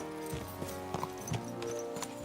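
Horses gallop in the medieval video game Kingdom Come: Deliverance II, with rhythmic hoofbeat thuds pounding over a steady layer of game music and ambience, fairly faint in the mix.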